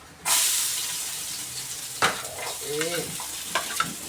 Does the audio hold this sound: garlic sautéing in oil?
yes